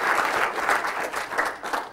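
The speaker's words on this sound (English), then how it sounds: "Can you give the Lord a hand clap of praise if you would please?" Church congregation clapping hands in praise during a Sunday morning service: a dense, steady patter of many hands at moderate distance, continuous through the moment.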